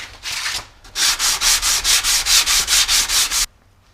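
Rhythmic back-and-forth sanding of the bevel side of a Stanley hand plane blade on an abrasive, about ten quick even strokes close up after a brief start, then it stops.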